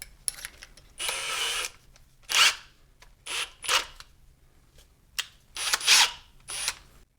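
A power drill with a left-handed bit works at a stripped, rounded Allen hex bolt, whirring in repeated short bursts of a second or less separated by pauses, close and loud.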